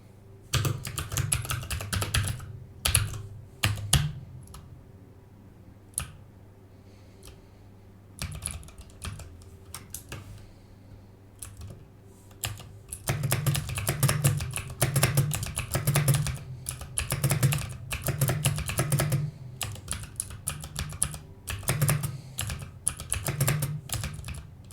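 Rapid bursts of typing on a computer keyboard during coding work, close and crisp, with pauses between flurries of keystrokes and no talking.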